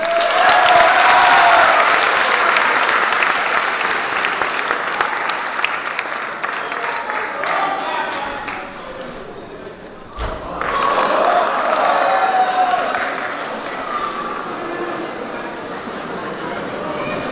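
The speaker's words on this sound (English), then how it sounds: "let's hear a big round of applause for our MCs today" A crowd applauds at a high school Full Circle assembly, loud and sustained, fading midway before a thud and a second swell of clapping, with chatter and voices mixed in.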